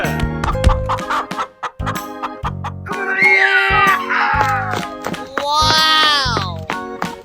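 Chicken clucking in a 3D animal slide video game, short clucks and a rising squawk mixed with cheerful game voices and effects, with speech over parts of it.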